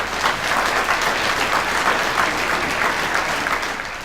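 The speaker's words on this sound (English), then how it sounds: "if we could give them a round of applause" An audience at an inspirational heroes event breaks into sustained applause, a dense, even wash of clapping that holds steady for several seconds with no voices over it.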